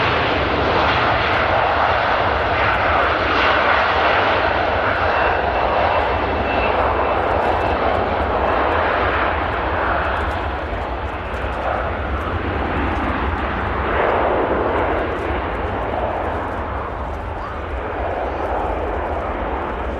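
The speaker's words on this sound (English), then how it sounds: "Virgin Atlantic rotates." Virgin Atlantic airliner taking off at Manchester Airport, a powerful sustained jet engine roar rolling and rising, loud and continuous for the whole stretch, with a brief dip in the middle and faint talk beneath.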